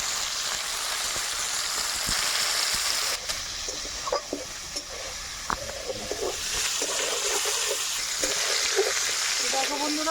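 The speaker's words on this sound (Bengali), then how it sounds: "আর লবণ দিয়ে ভেজে নেব" Cauliflower fries in oil with turmeric and salt, a steady sizzle with scattered clinks and scrapes of stirring, moderately loud and continuous.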